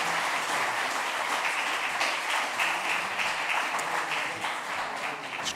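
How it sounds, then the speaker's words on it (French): An audience at a conference session breaks into sustained applause, a thick, even wash of clapping from many hands that holds steady and eases slightly near the end. "On peut applaudir David Gurley"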